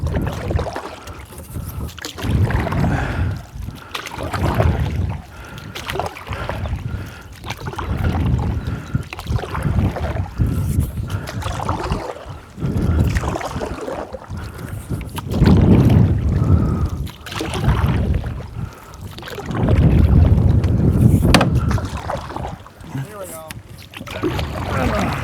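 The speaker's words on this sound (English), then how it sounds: "the wind has picked up. We're now bucking a headwind on the way back." A headwind blows across the water during a canoe trip, buffeting loudly and unevenly in gusts, with paddle splashes mixed in. A person talks over the wind noise.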